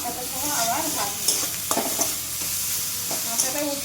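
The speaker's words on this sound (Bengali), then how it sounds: "মশলাটা একটু সবটা মিশিয়ে নেবো ভালো করে, মিশিয়ে নিয়ে তারপরে মাথাটা সহ আবার ভাজবো" Spice paste sizzles and fries in a pan with a fish head while a spoon stirs it, scraping and clinking against the pan over a constant hiss, close and clear.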